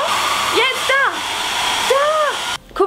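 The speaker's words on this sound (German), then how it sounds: "ich föhne hier oben und hier unten werden sie wieder pink." A hair dryer blows hot air over heat-sensitive, colour-changing pink hair dye with a loud, steady whoosh. Someone talks over it, and near the end the airflow briefly cuts out.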